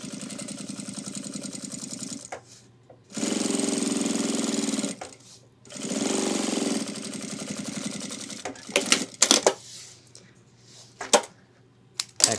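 Sewing machine running in bursts while stitching a second line around a pocket on a homemade 30L ultralight hiking backpack, with long steady runs, pauses and short stop-start stitches near the end; no talking.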